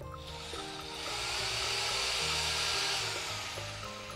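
A Japanese domestic-market power drill runs in normal drilling mode, a steady high whine whose pitch shifts slightly as it spins up and holds, heard alone and fairly close.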